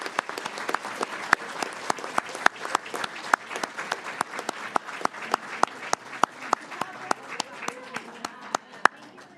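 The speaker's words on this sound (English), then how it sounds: "Let's give these guys a huge round of applause." Audience at a school board of education meeting clapping for students: scattered individual hand claps, crisp and near, over a softer background of steady applause in a modest room, lasting about nine seconds with faint voices underneath.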